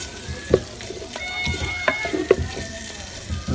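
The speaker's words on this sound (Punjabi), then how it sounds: "ਹੁਣ ਅਸੀਂ ਸ਼ਾਮਲ ਕਰਾਂਗੇ ਬੈਂਗਨ ਮੈਸ਼ ਕੀਤੇ ਹੋਏ, ਅੱਛੀ ਤਰ੍ਹਾਂ ਮਿਕਸ ਕਰ ਲਾਂਗੇ" Mashed roasted brinjal for baingan bharta is stirred in a pan in a village-style kitchen, giving a soft sizzle broken by sharp spoon clinks and scraping knocks.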